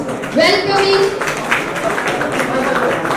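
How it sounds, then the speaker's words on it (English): An audience at a luxury jewellery launch claps continuously to welcome a guest onstage, a sustained wash of applause with a voice talking over it. "Keep the applause rolling as we welcome Srimati Anuradha Podwar"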